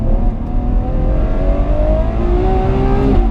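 Ferrari 812 Superfast V12 accelerating hard on the Fiorano test track, a loud, continuous high-pitched engine wail climbing steadily through the revs with a brief shift near the end, no talking over it.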